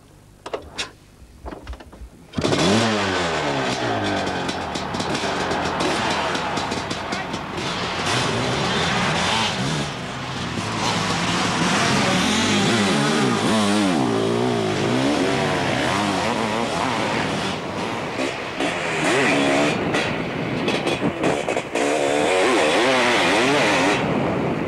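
Sidecar motocross bikes racing in training on a track, engines loud and continuous for over twenty seconds with repeated revving and rising and falling pitch as the outfits pass close, after a brief quieter start.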